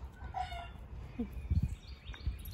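Chickens cluck softly nearby, with a few short bird calls and low thumps over a quiet background hum.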